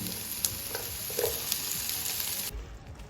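Onion sautéing in a pan with ginger, garlic, green chili, cinnamon and cardamom for butter chicken, giving a steady close sizzle with faint stirring clicks that drops away near the end.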